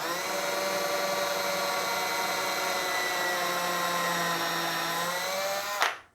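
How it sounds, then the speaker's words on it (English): A power drill runs in reverse through a workpiece on a car build, a steady, close, high-pitched whine holding for about six seconds before spinning down and stopping abruptly. "now I'm just going to reverse the drill."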